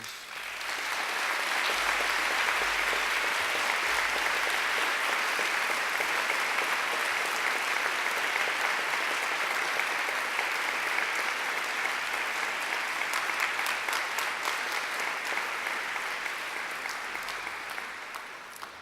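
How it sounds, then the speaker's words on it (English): Graduates at a graduation ceremony applaud their families and friends in a long, sustained round of clapping from a large hall crowd, rising quickly, holding steady for well over ten seconds, then tapering off. "And now I invite you to give them a mighty round of applause."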